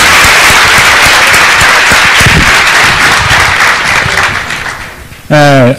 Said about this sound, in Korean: 큰 박수로 다시 한번 환영해 주셨으면 감사하겠습니다.